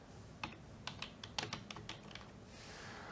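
Keys clack on a computer keyboard in short irregular bursts of a dozen or so taps, faint and close, as an EIN number is entered on an online loan application form.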